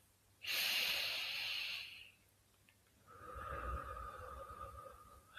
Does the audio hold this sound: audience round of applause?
no